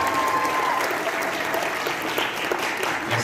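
An audience at a high school show choir cabaret applauds after a performance, an even, continuous spread of clapping throughout, with a faint steady tone early on and slight voices mixed in.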